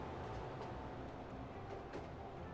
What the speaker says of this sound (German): die Gleisgeräusche sind ja dabei. Die hört man ja komischerweise.